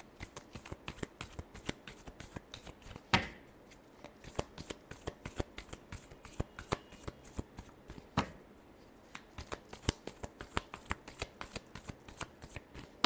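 Tarot cards are riffled and shuffled by hand at close range, producing rapid, crisp flicking clicks in quick runs, with a couple of sharper slaps as the deck is squared.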